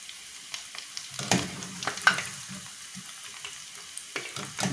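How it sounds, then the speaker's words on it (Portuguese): Chicken croquettes sizzle and crackle frying in hot oil, with scattered bright pops and occasional clinks of a utensil stirring. "Agora vamos fritar tudo."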